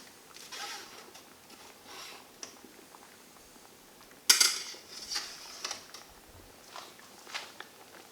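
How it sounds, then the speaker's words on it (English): A spoon stirs hops inside a metal hop spider in a Grainfather brewing unit during the boil, making one sharp metallic clank and then soft scraping and light clinks, fairly quiet and close. "I just give them a bit of a stir around in the hop spider"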